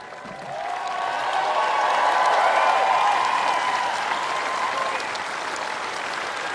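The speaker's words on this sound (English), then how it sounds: "let's give a huge round of applause to the umpire" A tennis crowd claps warmly for the umpire, applause swelling quickly to a full, dense roar, holding for several seconds and then easing slightly while continuing.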